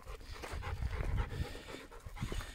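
A dog pants rapidly and steadily close by outdoors at the base of a mountain, with quick rhythmic breaths and no talking.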